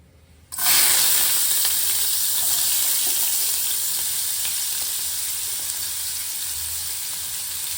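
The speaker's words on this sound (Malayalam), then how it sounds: "ഇത് ചൂടായിട്ട് നമുക്ക് നിറക്കി വെച്ചിരിക്കുന്ന കളർഡ് ക്യാപ്സിക്കം ഇതിലിട്ട് ഇട്ട് കൊടുക്കാം" Colored capsicum dropped into a hot pan sets off a sudden loud sizzle that keeps going, a steady bright hiss of frying that fades a little over several seconds.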